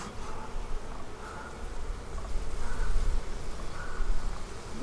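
Honeybees at a hive drone in a steady, close buzz over a noisy outdoor background, with one insect's whine swelling and fading as it circles near the beekeeper.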